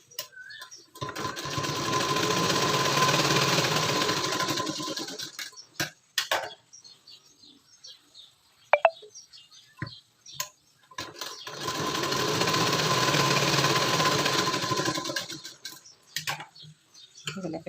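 Sewing machine stitching tucks at the shoulder center of a blouse: two sustained runs of fast, steady mechanical whirring, close and loud, separated by quieter clicks and fabric handling, with no voices.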